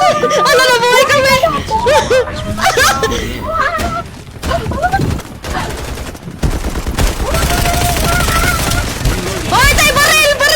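Video game gunfire rattles in dense, loud automatic bursts during a multiplayer match, mixed with excited shouting and laughter from several players talking over the shots throughout.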